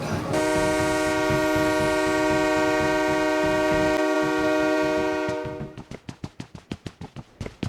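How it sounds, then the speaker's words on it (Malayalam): A long, steady electronic train horn sounds for several seconds, then gives way to a rhythmic clatter of wheels over track joints as a train rolls into a station in a video game. "നമ്മുടെ സ്റ്റേഷനിൽ ട്രെയിൻ വരുമ്പോഴുള്ള സൗണ്ടും ഒരു അനൗൺസ്മെൻറ്റും ഞാൻ കേൾപ്പിച്ചു തരാം"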